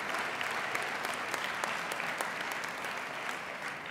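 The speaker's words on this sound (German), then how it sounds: "Ein kleiner Applaus wäre schön." Delegates at a state party conference give steady, moderately distant applause, a continuous patter of many hands clapping with scattered sharper claps throughout.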